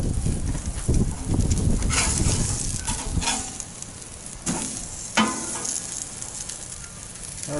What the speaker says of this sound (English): We're going to get that, and we're just going to do a sear on all the sections on that.